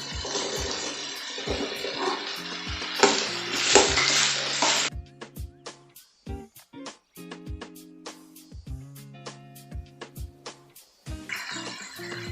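Tomatoes and chopped vegetables are fried in a pan for sambar rice. Loud sizzling at first surges when they go in, then stirring scrapes and clinks of a utensil against the pan follow in short bursts, and the sizzle swells again at the end.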